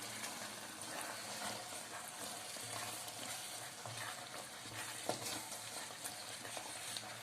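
Fried onions being added to simmering chicken haleem in a pot, giving a steady bubbling sizzle with soft stirring scrapes and a brief louder knock, moderately close, no voices.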